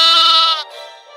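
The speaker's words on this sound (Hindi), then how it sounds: "राजू फिर अपनी भेड़ों को चराने ले गया।" A single sheep bleats loudly and close by in a wavering, nasal cry that trails off into a softer second breath, with no talk.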